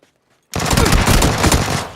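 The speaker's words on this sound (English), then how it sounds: "So we're definitely getting shot at now." Sudden loud automatic gunfire in a PUBG match breaks out after a short silence, a dense rapid burst of shots continuing without pause.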